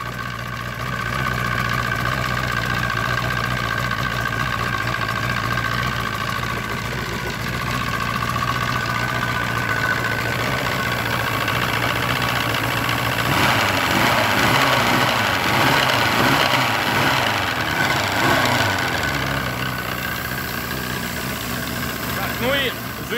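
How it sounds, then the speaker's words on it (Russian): A 1999 Force 120 outboard boat engine idles steadily on a Bayliner with its mufflers removed, running at a slightly high idle. The hum stays even and close throughout, with a rougher, louder stretch near the middle. "Что-то обороты холостые у него великоваты"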